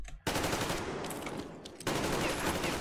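Sustained machine gun fire in the post-apocalyptic shooter Metro Exodus, a loud, dense, rattling stream that starts abruptly, dips briefly and then surges again, with no clear speech over it.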